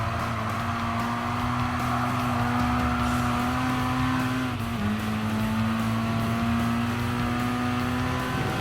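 A Bugatti Veyron races in Gran Turismo Sport, its engine holding a steady, loud high-speed drone with a sustained tone that dips briefly as if shifting gear, then carries on at pace.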